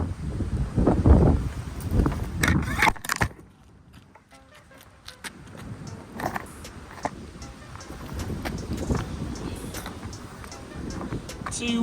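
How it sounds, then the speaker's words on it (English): Strong wind by an abandoned canal, gusty rumbling buffeting the microphone in loud waves with a brief lull, a rough, blustery roar throughout. "Too windy to film today."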